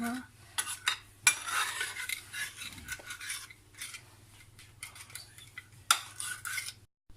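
Chicken drumsticks are mixed and pressed into their marinade, with uneven spoon clinks, wet squelching and scraping against the dish coming in short bursts, close up and without speech.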